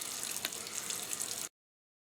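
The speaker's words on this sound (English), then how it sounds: "that sink is pretty well full now, so I'll turn the water off" A tap runs warm water into a filling sink as a steady, soft hiss that stops abruptly partway through, leaving silence.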